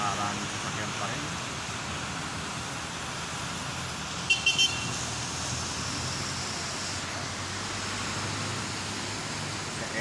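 Steady roadway traffic hum from many cars on a rainy street outside SM Marilao, with a brief horn-like burst midway and faint voices in the background.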